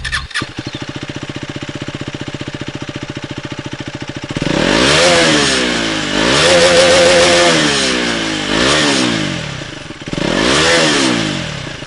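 A KTM Duke 250 motorcycle with an underbelly exhaust idles with a loud, steady thump, then is revved hard several times in rising and falling sweeps, close and alone.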